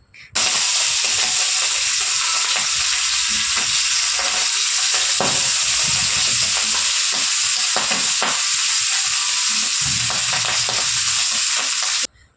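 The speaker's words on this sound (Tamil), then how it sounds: "கெளுத்தி மீன் டப்பு டப்பு டப்புன்னு வெடிக்கும்." Catfish frying in oil in a pan sizzles loudly and continuously with scattered pops and crackles, a steady frying hiss throughout.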